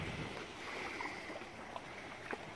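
Waves on a big lake at a lighthouse in Neenah, Wisconsin, washing up over the top, heard as a steady broad wash of water and wind with a few faint splashes, no voices.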